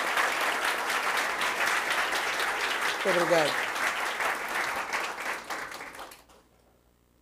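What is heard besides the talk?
audience applause for a speaker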